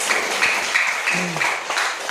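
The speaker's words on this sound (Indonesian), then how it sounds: "Berikan tepuk tangan buat Tuhan." Church congregation applauding during a sermon, a steady wash of clapping from many hands filling the room, with a brief voice or tone rising underneath partway through.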